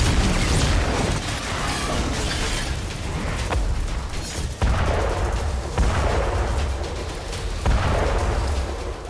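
A battle soundscape set against a nuclear war exercise by the Russian army: continuous loud rumbling booms and crackling blasts, with several sharp impacts punctuating a dense, unbroken roar throughout.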